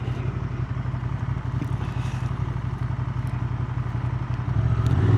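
A 2025 Honda Transalp 750 motorcycle's engine burbles steadily at low revs on a road, a close, even throbbing pulse that swells louder toward the end as the throttle opens.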